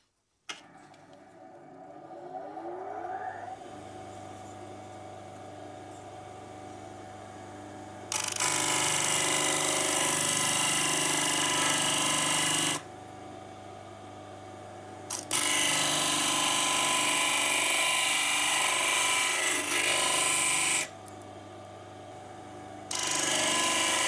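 A bench grinder trims a floating nut for a guitar, spinning with a steady hum and then grinding loudly in three long, harsh passes separated by short pauses back to the idle whine, close with no talk.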